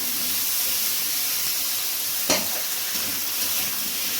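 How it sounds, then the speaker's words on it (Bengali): Potatoes and onions lightly frying together in a pan, a steady soft hiss of sizzling oil throughout with one sharp stir or clatter near the middle. "আলু পেঁয়াজ সব একসাথে ফেলে দিতে হবে হালকা করে ভেজে নিতে হবে"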